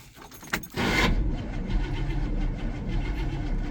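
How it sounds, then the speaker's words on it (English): Ignition key turned on a 1972 Chevrolet C10 Cheyenne pickup, a brief metallic jangle and click followed by a steady, loud engine or motor whirr that holds on with no talk. "Let's turn the key switch, see what happens."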